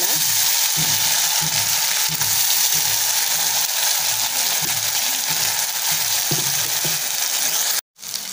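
Steady loud sizzling of mustard seeds and urad dal frying in hot oil for a chutney tempering, with soft rhythmic stirring or popping underneath, ending in a brief cutoff.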